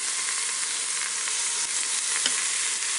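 A pot roast sears in a pressure cooker with a loud, continuous sizzle and crackle of frying meat and a couple of faint clicks, and no talking.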